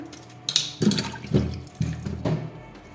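Chopped capsicum is washed by hand under running water in a kitchen. Water splashes and sloshes in several uneven bursts close by, with a steady trickle between them.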